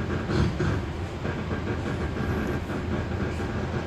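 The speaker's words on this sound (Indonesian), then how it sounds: "kereta api Doho 353 berhenti di stasiun Kras" Dhoho 353 passenger train standing at Kras station in East Java, giving a steady low rumble and mechanical hum with faint clatter, loud and close, no voices.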